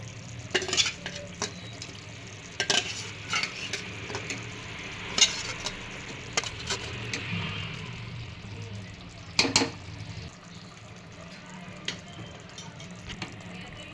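Eggs sizzle in a pan as they are stirred for egg biryani, with scattered scraping and clinking strokes of a utensil over a faint steady frying hiss, close and fairly quiet.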